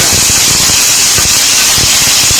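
Curry leaves drop into hot oil for a Kottayam-style egg roast and set off a steady, bright sizzling hiss, close and fairly loud, with faint crackles underneath and no voices.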